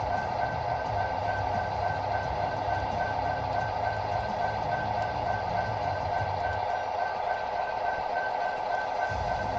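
Model train locomotive running steadily on a small loft layout, a continuous even rolling hum with faint rail clatter throughout, close and moderately loud with no talk.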